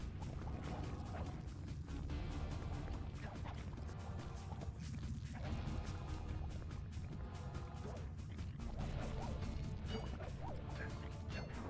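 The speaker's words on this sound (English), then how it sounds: "Smash through those gears with your cane." Sly Cooper's cane smashes gears in the Sly Cooper video game: dense, loud, repeated metallic crashes and mechanical clatter that continue without a break.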